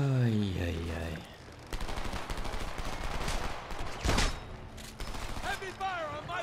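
Heavy automatic gunfire in the video game Homefront, a sustained roar of overlapping rapid shots with loud bursts, mixed with shouting voices and music over the top.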